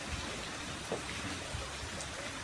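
Water sprays from a hose and falls like heavy rain, a dense, even hiss with scattered drops spattering nearby, lasting the whole moment without any voices.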